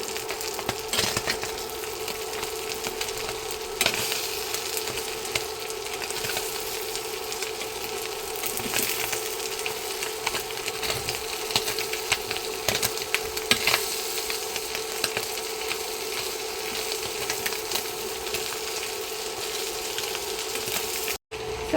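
Cajun chicken seasoned with cayenne sizzles loudly and steadily in a hot pan while it is stirred, a dense continuous frying hiss with scraping stir sounds and no talking.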